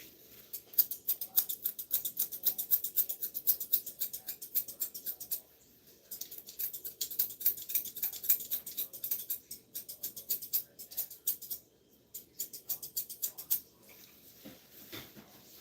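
Scissors snip lightly around a terrier mix's face fur, a steady run of quick, soft metallic clips close by with brief pauses, no talk.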